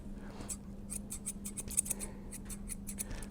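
Grooming scissors snip through a dog's fur on its back leg, a fast run of close, crisp metallic cuts with a steady low hum in the background.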